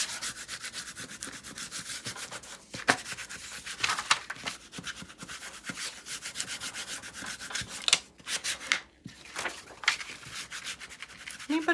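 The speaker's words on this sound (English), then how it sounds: "So let's burnish this down." A paper belly band is burnished down onto a craft tag with a steady, dry rubbing scrape close up, stroke after stroke with brief pauses.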